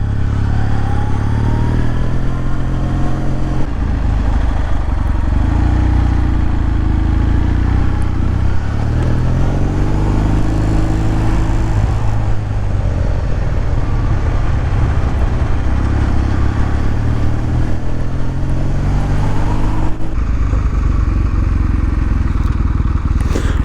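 A motorcycle engine runs continuously as the bike rides off in first gear, a loud, close, steady throbbing drone with rattles and shifts in pitch throughout, with no voices over it.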